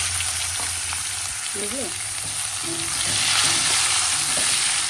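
Cumin, tomato and onion frying in hot oil with a steady close sizzle and stirring, while a voice speaks briefly over it.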